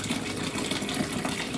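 Water splashes and gushes steadily as it is poured to fill the reservoir of an AGLUCKY countertop ice maker. The pour is soft and close, with no talking over it.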